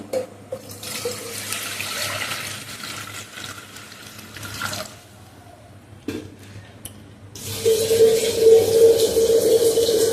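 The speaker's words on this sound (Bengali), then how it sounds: "যতটা চাল এই ততটা জল আমি দিয়ে দিচ্ছি" Water pouring from a tap onto rice for biryani, a continuous splashing stream that briefly pauses, then resumes louder and fuller as the pot fills.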